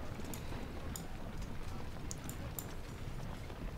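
Horses clip-clopping in the Civil War strategy game Ultimate General at the Battle of Brandy Station, a steady busy patter of hooves with scattered sharp clicks over constant game noise.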